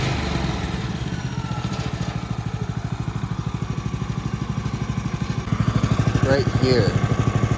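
A small engine on a homestead bandsaw mill chugs steadily at a fast pulsing idle, then picks up louder and firmer as the throttle is pushed, with someone talking briefly over it.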